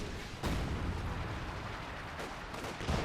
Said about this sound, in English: if you can keep the Raketenwerfers firing